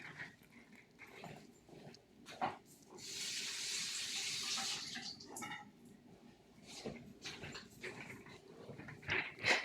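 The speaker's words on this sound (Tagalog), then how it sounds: "ang sili, hugasan muna natin" Chili peppers being washed under a running kitchen tap, water streaming steadily into the sink for a few seconds, with a dog whimpering nearby and scattered handling noises around it.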